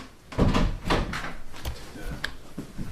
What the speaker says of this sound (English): Close the bathroom door.